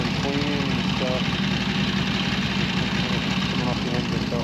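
A 1979 Harley-Davidson XLH Sportster ironhead engine idles steadily and loudly nearby, a continuous low throbbing rumble with a dense hiss over it, while brief bits of voice surface now and then beneath the engine noise.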